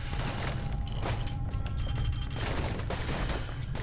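Rapid gunfire from combat in the video game Bastion, a dense, steady barrage of shots layered over a constant low rumble and clatter, loud and continuous throughout.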